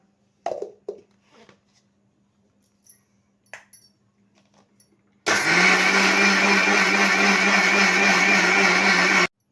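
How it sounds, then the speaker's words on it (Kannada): A mixer grinder grinds soaked rice with water into batter for paddu. A few soft clinks and light handling sounds come first, then the motor kicks in with a loud, steady whine that holds for about four seconds and stops sharply. "ರುಬ್ಕೊಳ್ಳೋಣ ಇದನ್ನು"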